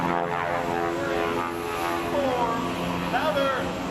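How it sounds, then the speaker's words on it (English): A Twin Beech propeller aircraft flying an eight-point roll at an airshow at Oshkosh, a loud sustained radial-engine drone with shifting pitch, heard under a commentator's voice. "that Twin Beech aircraft that Matt is flying in"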